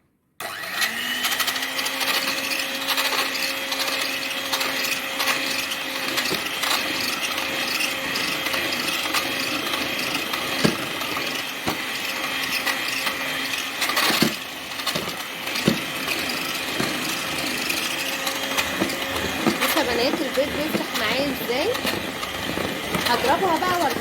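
Eggs and liquid cake ingredients for a plain tea sponge cake are beaten in a bowl, making a steady whirring drone with scraping and rubbing throughout.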